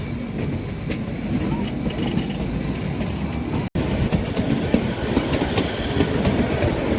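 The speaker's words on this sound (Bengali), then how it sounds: "কালকা সিমলা টয় ট্রেনে সফর করছি" Kalka–Shimla toy train running on its narrow mountain rails in Himachal Pradesh, a steady close rumble with rattling wagon noise and faint clickety-clack throughout, broken by one brief cut.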